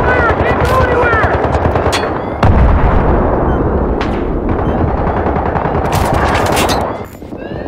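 Dense automatic and single-shot gunfire from a Battlefield 3 multiplayer match, continuous and loud for most of the stretch with bursts and sharp cracks, blended with game effects, easing off near the end.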